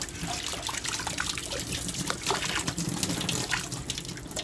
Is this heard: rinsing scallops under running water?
yes